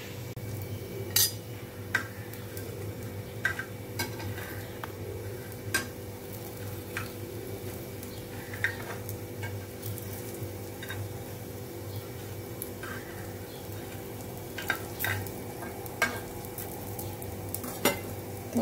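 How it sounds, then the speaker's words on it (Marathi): Brinjal slices shallow-frying in a pan while being turned to the second side, a constant close sizzle broken by sharp, irregular clicks and scrapes from a spatula or tongs, no one speaking. "आता दुसऱ्या साइडने सुद्धा चांगले फ्राय करून घेऊ।"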